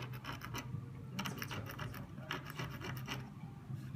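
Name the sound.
sharpening a jewellery bead-setting tool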